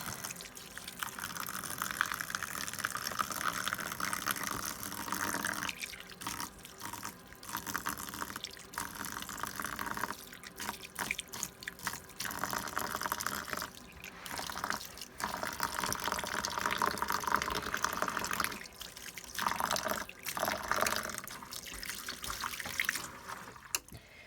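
Warm water runs steadily from a tap into a container, a continuous hiss and splash with brief breaks and drips, moderately loud and close.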